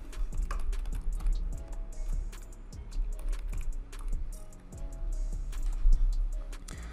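Steady computer-keyboard typing while entering CSS code, a dense run of close, crisp key clicks with a few heavier taps, continuing alone without speech.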